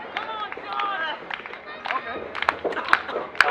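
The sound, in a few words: fans clapping at wrestling event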